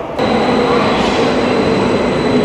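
A train rolls past at close range, a steady loud broadband rumble with hissing and faint whine that starts abruptly and holds level throughout, with no talk over it.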